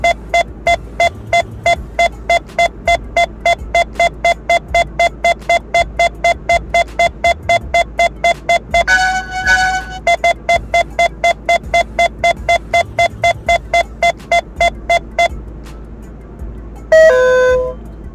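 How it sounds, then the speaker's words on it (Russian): A car radar detector warns of an approaching speed camera with a rapid, loud, steady train of electronic beeps, broken by two brief chime-like alert tones. "радар также корректно предупредил водителя о приближении к этой камере"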